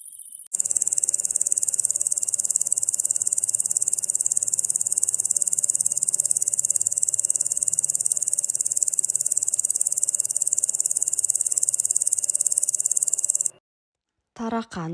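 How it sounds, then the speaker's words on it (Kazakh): A locust gives a dense, unbroken high-pitched chirring that holds steady for about thirteen seconds before cutting off. No one speaks over it. "Шегіртке, locust."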